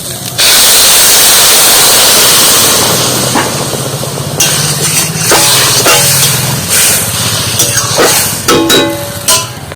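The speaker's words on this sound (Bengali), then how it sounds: "এবার আমি একটু জল দিয়ে দেবো" Water poured into a hot pan of frying chana dal sets off a loud, continuous steamy hiss, followed by several sharp clinks and scrapes of utensils as it settles.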